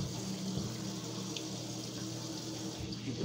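Tap water runs steadily into a sink for hand washing, a continuous close splashing hiss with no talk over it.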